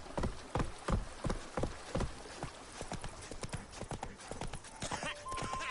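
Roach, Geralt's horse in the video game The Witcher 3, trots with rhythmic, clear hoof clip-clops up close, a faint chime near the end, and low speech briefly beneath.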